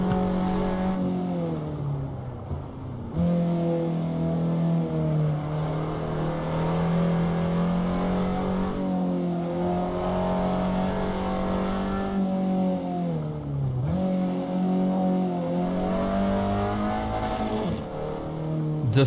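An Abarth 500 engine in the racing game Assetto Corsa revs up and down repeatedly, a buzzy rising and falling drone with short dips between gear changes, steady and loud throughout.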